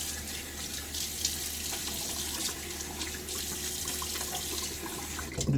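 A tap runs steadily into a sink, as water is used to rinse the face after shaving, with a continuous close hiss and splash and no talking.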